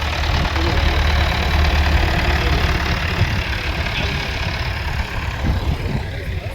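Tractor engines idle at an agricultural show parade, giving a continuous, loud, low rumble with a knocking texture that holds steady throughout, heard alone without talk.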